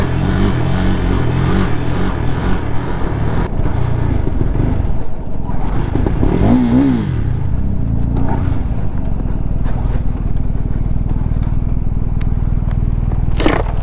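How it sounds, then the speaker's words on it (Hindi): A KTM motorcycle engine held at full throttle while riding, a loud steady drone with a brief wavering pitch midway, constant and close throughout with no talk over it. "ये देखो भाई कैसे चल रही है, पूरा का पूरा थ्रोटल दे रखा हूँ मैं"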